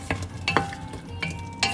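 A spoon stirs vegetable biryani ingredients in a pot in four distinct scraping strokes, close and clear, with a faint sizzle between them.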